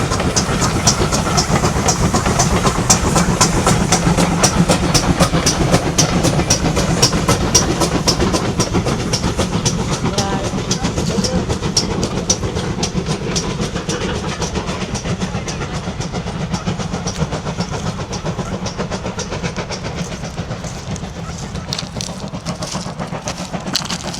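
A steam train on the Christmas train of lights run in Paignton, South Devon, rolls past with steady rapid clickety-clack and a continuous rumbling roar, loud and near, easing slightly toward the end.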